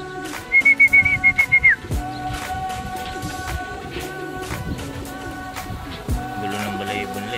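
Racing pigeons crowded in crates during a training release, with a rapid series of high whistle-like notes near the start over a busy background of shuffling, thumps and faint cooing.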